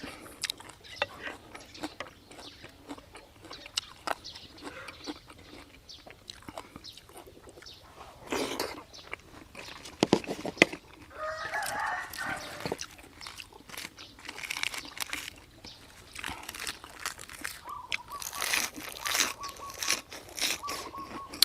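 Someone eating koi loi leuat, a Thai raw meat salad, close up: repeated wet chewing and crunchy bites in an irregular rhythm, with occasional brief voices.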